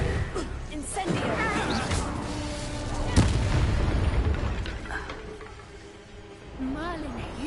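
An Incendio fire spell is cast in Hogwarts Legacy, bursting out as a loud whooshing blast midway over rumbling game effects, while a voice talks around it.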